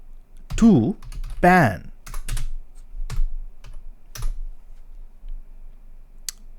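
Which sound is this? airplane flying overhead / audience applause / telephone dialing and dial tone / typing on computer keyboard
typing on computer keyboard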